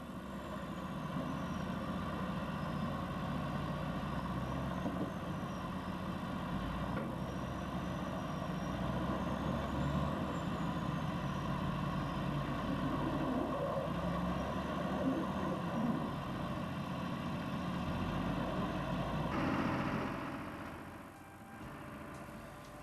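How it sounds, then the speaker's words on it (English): A Kenworth tractor truck slowly hauls a 330-ton heavy transport combination off a barge, a low steady diesel drone with faint high whines, fading somewhat toward the end. "The Kenworth tractor slowly pulled the 330 tons transport combination from the barge."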